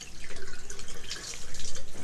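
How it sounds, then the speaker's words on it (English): Tap water running steadily into a basin for ear irrigation, a continuous broadband splashing rush with a pulsing flow, close and fairly loud, no voices. "after 20 seconds of running the tap water"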